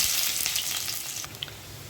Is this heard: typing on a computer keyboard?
no